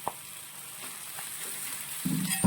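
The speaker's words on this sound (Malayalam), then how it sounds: "ഇനി നമുക്ക് ഇതിലേക്ക് നമ്മൾ അരിഞ്ഞു വെച്ചിരിക്കുന്ന തക്കാളി ചേർത്ത് കൊടുക്കാം" Chopped tomatoes going into frying masala paste for a Kerala sardine curry with green coriander and pepper, a faint steady sizzle with a soft thud and a brief louder burst of frying near the end.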